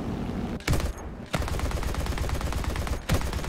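Cannons of a Fw 190 A-4 fighter fire in the flight combat game War Thunder, loud rapid bursts of gunfire broken by brief pauses.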